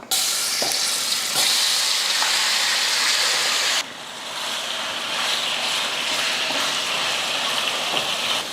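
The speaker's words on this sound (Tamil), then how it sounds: "எண்ணெய் காஞ்சதுமே கலந்து வச்ச சிக்கனை சேர்த்துடலாம்" Marinated chicken fries in hot oil in a kadai, a loud, crackling sizzle with spatula scrapes; the hiss drops sharply partway through, then continues more evenly.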